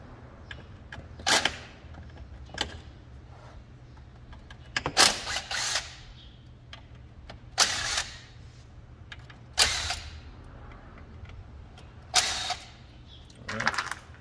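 Bolts being removed one by one from the case of a 240Ah Cmax lithium car audio battery during disassembly, heard as several sharp metallic creaks and clicks spaced a few seconds apart over a low steady hum.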